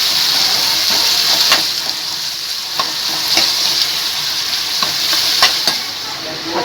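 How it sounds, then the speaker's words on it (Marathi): Chopped onion fries in hot oil for hotel-style misal, a loud, steady sizzle broken by scraping stirring strokes every second or so. "कांदा व्यवस्थित छान ब्राऊन होईपर्यंत आपल्याला तेलात परतून घ्यायचा"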